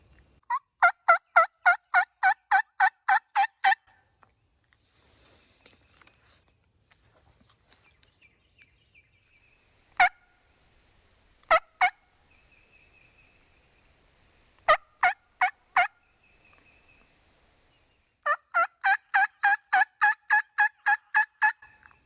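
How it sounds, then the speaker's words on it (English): Wild turkeys gobble in a Georgia spring woods at dawn, rapid rattling bursts at the start and end with a few sharp single calls between, fairly clear against a quiet background. "Just heard one gobble that way, quite a ways off. Very faint gobble."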